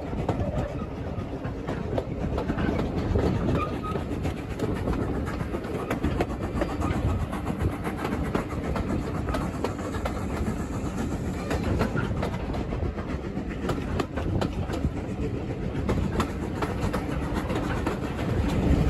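Dartmouth Steam Railway train rolling along the tracks, a steady loud rumble with rhythmic clickety-clack of carriage wheels throughout, close and continuous with no talk.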